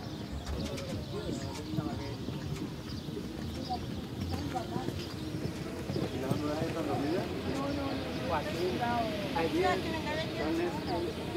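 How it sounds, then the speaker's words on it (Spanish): Horse hooves clip-clop intermittently in a show jumping arena at an Andalusian championship in Jerez de la Frontera, moderately close, mixed with cooing pigeons and background voices. "En pista, caballo Darko Polo, montado por Antonia Ana Equegre."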